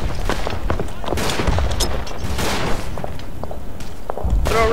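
Grenade blasts and scattered gunfire in the WWI shooter Verdun, a dense, busy battlefield of repeated thuds and cracks that stays loud the whole time, with no clear single explosion standing apart.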